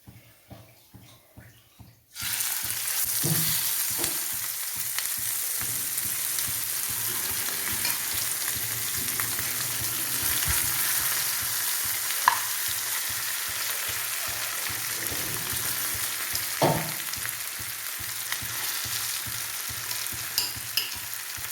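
Ozhuka pieces fry in hot oil after a moment of quiet, a loud, steady crackling sizzle that carries on to the end with occasional stirring clinks and no voices.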